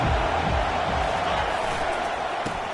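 Stadium crowd at a college football game, a broad, sustained roar of many voices that holds fairly loud and steady, easing slightly toward the end, with a brief sharp knock near the close.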